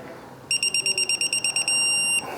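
A torque wrench on an Audi A4 B8 front lower control arm bolt beeps as it reaches the target torque, giving a rapid series of about ten short electronic beeps followed by one long steady tone, loud and clear with no talking.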